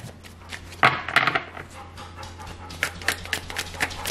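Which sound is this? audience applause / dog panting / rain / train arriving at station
dog panting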